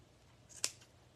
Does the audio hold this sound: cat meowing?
no